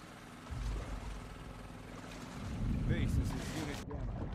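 A boat engine in The Last of Us Part 2 runs with a low, steady rumble and water wash that builds partway through, mixed with wind and some faint background voices.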